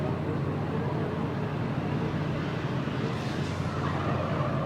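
An E46 BMW drift car with a 2JZ engine slides through the S-bends in drift competition qualifying at Manfeild, with a steady wash of engine roar and tire noise heard from a distance under faint commentary.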